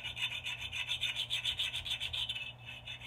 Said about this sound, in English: with a file and take those little burrs or sharp edges off and just round them over on the outside